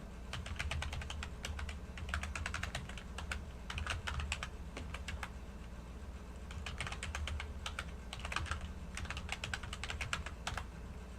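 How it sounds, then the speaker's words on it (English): Keys on a computer keyboard clatter in quick, irregular bursts with short pauses, close and fairly quiet, with no voices. "Typing them in."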